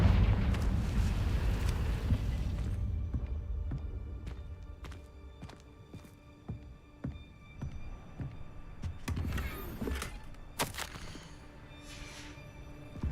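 A Confringo spell from a wizard video game bursts with a rumbling, eruption-like blast at the start, followed by scattered sharp impacts and crackling debris. Several brighter bursts stand out near the end.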